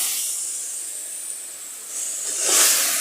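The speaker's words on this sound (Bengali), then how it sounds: "বারে বারে মাংসটা নাড়তে হবে যেন সুন্দরভাবে মাংসটা হয়ে যায়।" Beef and potatoes cooking in a pan while being stirred, giving a steady sizzling hiss that swells louder near the end, with no voices.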